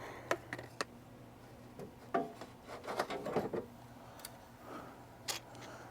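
Tools working loose an engine pulley on a Mercedes in a garage give scattered clicks, taps and rubbing scrapes, a few sharp ticks standing out over a low steady hum, with no talking.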